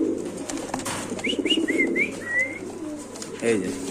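Pigeons coo repeatedly in a large pigeon farm, a series of close, soft rising calls over a murmur of background noise, with someone talking nearby.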